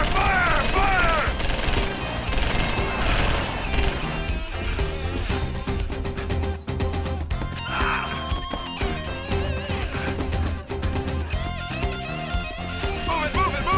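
A machine gun volley rips through a dense, busy action scene in the TV series Air America, with sustained rapid gunfire mixed under music and shouting from start to finish.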